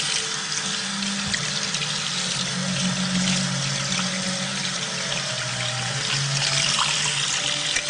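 Tap water runs steadily into a sink as an egg is rinsed under it, a loud continuous splashing rush with slight shifts in tone as the egg is moved in the stream, no talking.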